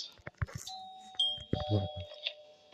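Someone presses a doorbell at a front door during a children's school-boy game, and a clear two-tone electronic chime rings out among small knocks and thumps nearby.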